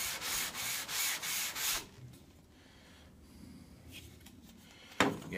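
Sandpaper taped to a fret leveling beam rubs in rhythmic back-and-forth strokes, about six close, even sanding passes, followed by quieter handling noise and a sharp knock near the end.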